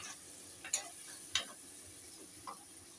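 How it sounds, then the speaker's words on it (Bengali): Ground tomato paste frying and being stirred in a pan for fish curry, a faint low sizzle broken by a few sharp scrapes and clinks of the spoon against the pan. "ওর মধ্যে দিয়ে দিচ্ছি এই একটা টমেটো বাটা, একটাই টমেটো দিচ্ছি।"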